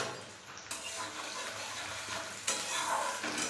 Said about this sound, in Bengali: আলু আর পেঁয়াজটা একটু একসাথে ভাজা হয়ে যায়।